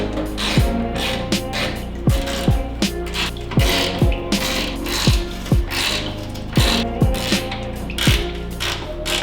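A ratchet undoes bolts on a Corrado front end, a loud close run of steady clicks punctuated by regular sharp knocks at the end of each swing, with no voices.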